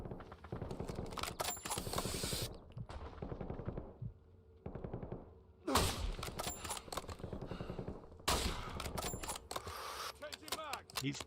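Bursts of automatic gunfire from the Call of Duty: Warzone battle royale, several separate volleys of rapid shots with short pauses between, fairly close and loud, a little talk faintly underneath.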